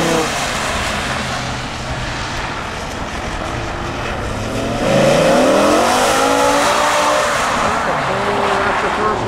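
A race car launches from first gear with stability control switched off, its engine note climbing and sweeping sharply upward midway as tires squeal, growing louder and closer, with voices chattering underneath.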